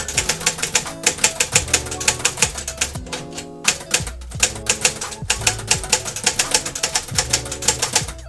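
Rapid typewriter keystrokes in capital letters clatter close and loud in a dense, steady run, with a brief pause around the middle and occasional carriage bell-like dings and mechanical clunks from the shift.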